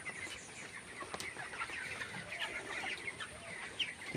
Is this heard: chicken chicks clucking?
yes